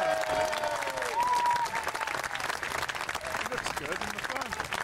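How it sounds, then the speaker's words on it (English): Crowd at a historical reenactment grand parade cheers and applauds as costumed figures pass, continuous clapping with scattered shouts and a brief whistle-like tone early on. "Give him an extra specially loud cheer as he passes you by."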